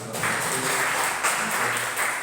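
Steady applause from an audience at a school presentation about the vision of SMP Negeri 3 Dogo, even and continuous from start to end with only faint background voices.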